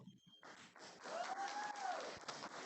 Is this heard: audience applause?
yes